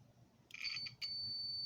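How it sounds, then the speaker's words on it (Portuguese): A multimeter on continuity test sounds a high, steady electronic beep as the probes close on a switch, starting with a brief stutter and then holding a continuous tone. "Agora eu vou fechar, ele vai dar bip."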